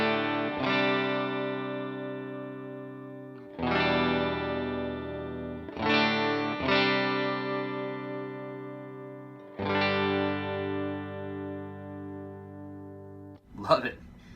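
Clean strummed chords on a Stratocaster-style guitar through the bridge single-coil pickup of a budget loaded pickguard, four ringing chords each left to sustain and decay, ending with a brief scrape of strings.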